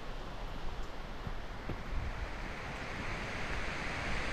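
Mae Pan waterfall in a Chiang Mai forest, a steady broad roar of falling water heard from some distance, with wind buffeting the microphone.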